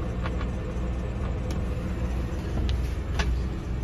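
A 1990 Ford F-250 truck engine idles just after starting, a steady, close, low rumble that runs throughout with a few faint clicks on top and no talking.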